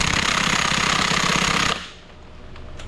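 Electric impact gun hammering loose a lug nut on a Ford F-150 2.7 EcoBoost truck, a loud, rapid rattling burst for under two seconds that cuts off abruptly, leaving quiet garage air.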